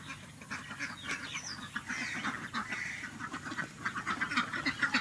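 Ducks on a mixed farm raising goats, ducks and chickens quack in a lively chorus of overlapping calls, fairly close but quiet, with no talking.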